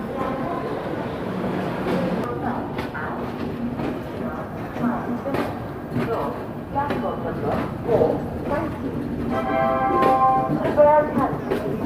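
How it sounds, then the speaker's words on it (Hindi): Golden Temple Mail passenger train rolling out of Ghaziabad Junction, a steady rumble and clatter of the coaches running continuously, with people talking nearby throughout. "उसके बाद हमारी ट्रेन यहाँ से निकल भी चुकी है"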